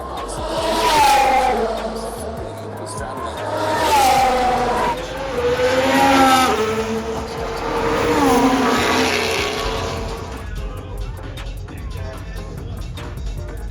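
Formula 1 cars scream past trackside during free practice, loud engine notes rising and falling in several close passes with tire and crowd noise, then fading to a distant hum.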